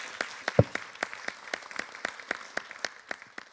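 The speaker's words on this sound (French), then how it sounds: "Je propose qu'on applaudisse très fort Thierry Michel" A small audience at a film screening applauds the documentary director Thierry Michel with sparse, separate claps at an uneven pace, moderately loud, one sharp clap standing out early, and no talk.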